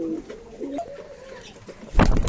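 Fancy pigeons on a farm coo in a short, low, warbling phrase, followed by a brief loud burst of flapping or rustling at the end.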